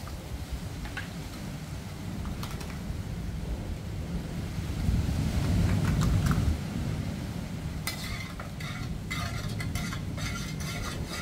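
A spoon stirs sugar into water in a container, a steady swirling and scraping with occasional clinks, fairly close, while wind rumbles in the background at a beach campsite, Praia do Gravatá.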